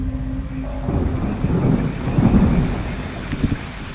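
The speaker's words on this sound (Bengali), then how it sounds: "বাইরে এক নাগারে বৃষ্টি পড়ে চলেছে।" Heavy rain pours over a remote rural Bengal village, with deep rolling thunder that builds and peaks midway; steady and close, with no voices.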